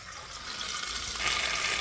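Bottled water pours into a cooking pot, a steady watery rush that swells louder toward the end, with no voices over it.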